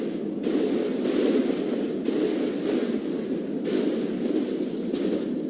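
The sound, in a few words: walking through water in video game Dark Souls 3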